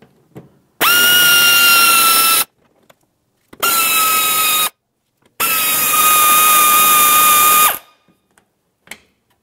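A power driver spins out 5.5 mm screws from the inner fender well of a Ford Flex in three loud, whining bursts of about two seconds each, separated by short quiet gaps.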